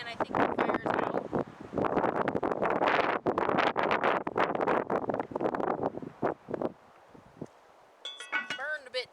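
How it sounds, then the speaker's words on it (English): Wind gusting outdoors in Alaska near a campfire, buffeting the microphone as a loud, rough, continuous roar for about seven seconds before easing off, followed by a few faint clinks. "The wind has not been my friend today."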